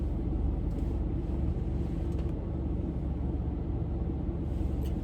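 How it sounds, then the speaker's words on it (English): Steady, loud low-frequency rumble of a car cabin while driving, a constant road and engine drone filling the whole stretch with no voices. "the car is dumb loud"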